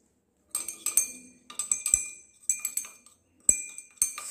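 Glass rod stirring a hydrogen sulfate solution in laboratory glassware, bright clinks and taps in short bursts of several strikes separated by brief pauses, close and clear, no voices.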